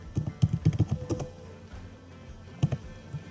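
Keys clatter on a computer keyboard in a quick, close burst of taps, then pause before a few more strokes, with no voices over them.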